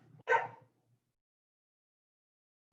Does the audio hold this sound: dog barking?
yes